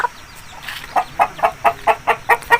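Nearby Aseel chickens cluck in a quick, regular series of loud clucks, about eight in a row, with faint background noise.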